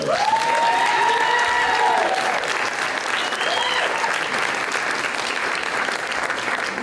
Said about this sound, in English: One more round of applause for Ellen.